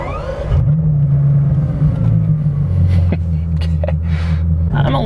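A Bugatti Chiron hypercar passes at lower speed, its engine a steady loud rumble that shifts in pitch as it moves, close by and continuous throughout with no talk.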